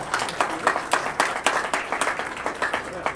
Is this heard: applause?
yes